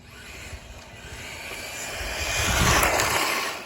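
Traxxas C8 Corvette RC car with a brushless motor conversion ripping around on the street, a steady whining motor hiss that swells louder toward the end as it passes close by.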